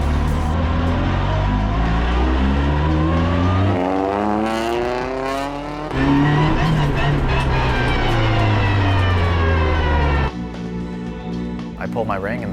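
An adaptive race car with a Bosch hand-control system drives up and down a pit lane, its engine loud and close, pitch climbing and falling as it accelerates and eases off, with a brief lull around the middle.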